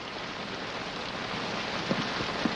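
Steady, heavy rain pours down outside, a dense continuous wash of sound at even loudness, with a couple of faint knocks near the end.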